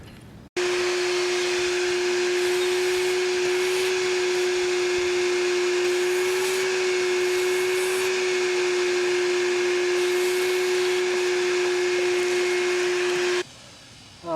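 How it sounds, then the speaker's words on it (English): A shop vacuum cleaner switches on abruptly and runs with a steady, loud whine and rushing airflow for over twelve seconds while sucking dirt out of a Lawnboy 196cc lawn mower, then cuts off. "Let me get the vacuum and see if I can suck that out of there."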